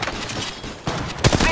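Gunfire from the video game Apex Legends, a quick burst of shots over steady game noise, with a sharper volley near the end.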